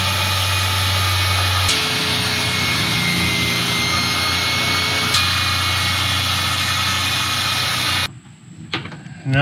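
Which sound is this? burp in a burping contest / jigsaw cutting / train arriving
jigsaw cutting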